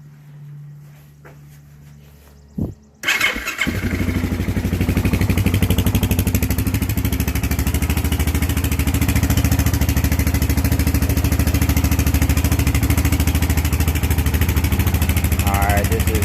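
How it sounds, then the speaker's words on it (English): Motorcycle engine with its original stock exhaust muffler starts up, then idles steadily and loudly at close range with small throttle blips, a short burst of handling noise before it fires. "Alright, this is original muffler right here. Guess you can see how it sounds."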